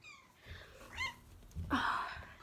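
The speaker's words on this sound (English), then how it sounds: "She likes meowing a lot." A pet cat making a few short meows and soft chirping calls close by, with quiet breathing and faint sniffing sounds between them in a quiet room.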